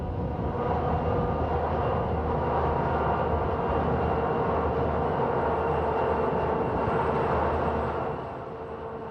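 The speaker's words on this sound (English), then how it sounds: "This BN-powered run-through train is on WP tracks" A BN-powered run-through freight train rolls along Western Pacific tracks, a steady, loud diesel rumble with a low engine drone and rail noise that eases off slightly near the end.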